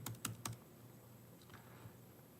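A few quick keystrokes on a computer keyboard as a zip code is typed, three sharp clicks close together at the start, then fainter taps over a quiet room.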